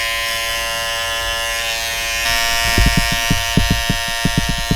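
Electric clippers buzz steadily while lining up a beard, a close, loud hum joined by a rapid series of short, rhythmic clicking pulses in the second half.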